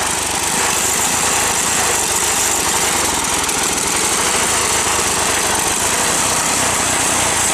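A homemade small tractor built in Morumbi, Paraná, runs its small engine continuously at a steady, loud, close drone with a raspy, mower-like tone and no pauses.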